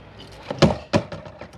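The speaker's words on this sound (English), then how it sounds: "Here you do have your cassette locker, so again opens with a Swift key," A cassette locker door on a Swift Escape Compact 404 caravan is unlocked with a key and opened: a couple of sharp close clunks and latch clicks with light rattles.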